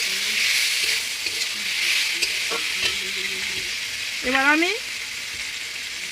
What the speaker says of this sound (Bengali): আদা রসুনটা দিয়ে আমি একটু কষিয়ে নেব।